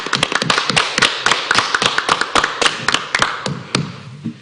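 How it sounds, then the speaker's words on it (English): Council members at a town council meeting giving a short round of applause, a few hands clapping close by in uneven, fairly loud claps that thin out and stop after a few seconds, no talking. "Members of council, please join me in a round of applause"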